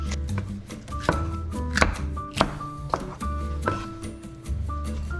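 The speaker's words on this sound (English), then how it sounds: "this is where a food processor really comes in and saves the day" A Cuisinart 14-cup food processor chops peppers, including Anaheims, in a rapid series of short pulses with blade whirs and clattering knocks, close and fairly loud.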